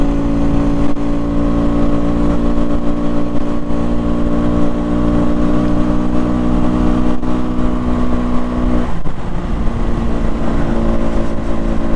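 SWM RS300R motorcycle engine while riding through its gears: a loud, steady droning engine tone held for most of the stretch, then a shift near the end as the pitch drops and the note roughens.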